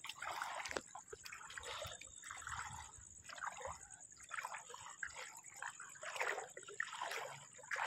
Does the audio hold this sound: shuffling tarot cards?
no